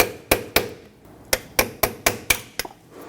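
Sharp metal-on-metal hammer strikes punch a leftover copper washer off the brake caliper of a 2006-2010 Hyundai Sonata front brake hose, about eight close, loud taps, first a pair and then a faster run of five or six.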